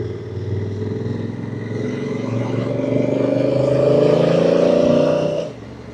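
A Honda CRF1000 Africa Twin DCT motorcycle climbing a narrow country road uphill, its engine droning steadily and rising in pitch as it pulls, loud and close, then dropping off abruptly near the end.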